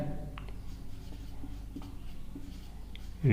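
Chalk or marker writing on a board during a geometry lesson, faint scattered scratchy strokes at a distance over a low room hum, ending in a louder bump.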